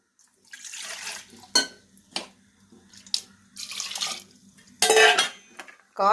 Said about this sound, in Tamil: துவரம்பருப்பு நல்லா கழுவி வச்சு